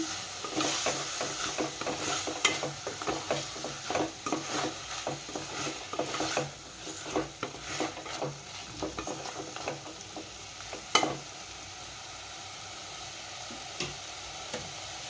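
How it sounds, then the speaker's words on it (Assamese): Goat leg soup with turmeric being stirred in a pan over steady sizzling, with a spoon repeatedly scraping and knocking against the pan for about ten seconds before things settle to a quieter simmering hiss. "এইখিনি ভালকৈ লৰাই ল'ম"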